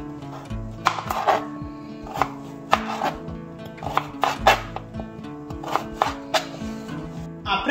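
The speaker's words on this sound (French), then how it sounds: "Après avoir découpé nos pommes" Potatoes being chopped with a knife on a cutting board in a kitchen, a steady series of sharp, close knife strikes with a rhythmic pattern and no talking.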